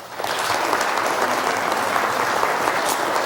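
A church congregation at a celebration applauds, a dense, steady burst of hand clapping from many people that starts abruptly and holds at full strength to the end.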